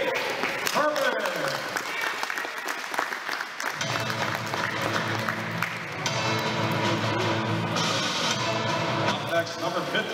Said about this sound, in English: let's give a round of applause for number 41, Jake Herman.